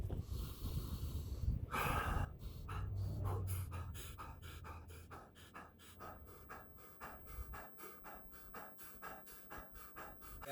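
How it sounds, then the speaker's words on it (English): Heavy, rhythmic Wim Hof method breathing comes in a steady run of forceful breaths close to the listener, after a brief rush of noise at the start. "I'm gonna do the Wim Hof breathing exercise"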